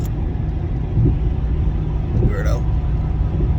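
Steady low road rumble of a car heard from inside the cabin on the way to a drag racing tech inspection, with a short spoken word over the drone.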